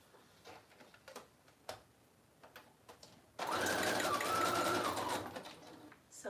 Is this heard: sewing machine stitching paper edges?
yes